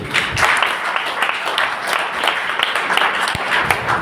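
An audience breaks into loud, sustained applause, many hands clapping in a dense, rippling wash, with a few sharper individual claps standing out.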